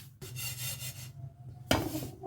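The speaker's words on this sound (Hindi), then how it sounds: "लगातार चम्मच चलाते रहिए, क्योंकि अगर आपने चम्मच चलाना छोड़ दिया तो जो तिल हैं वो जल सकते हैं नीचे से।" A spoon stirring sesame seeds dry-roasting in a pan over a low flame, two close scraping and rustling sweeps separated by a short pause, with no talk.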